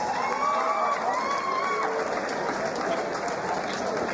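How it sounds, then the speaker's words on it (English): Crowd at a live amateur kickboxing event applauding the fighters, a continuous spread of clapping mixed with scattered cheers and a few raised shouts in a large hall. "give these boys a big round of applause, please"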